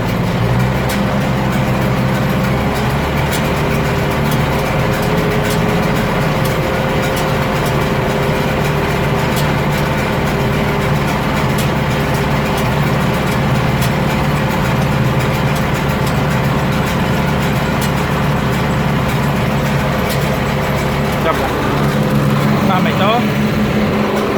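A Claas Variant 260 round baler runs at 540 rpm PTO behind a tractor, a steady loud mechanical drone with a constant engine hum and faint clatter throughout.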